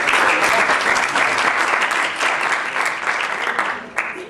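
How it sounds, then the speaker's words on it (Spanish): A conference audience breaks into dense, steady applause that stays loud throughout and thins out slightly in the last second. "Démosles un aplauso."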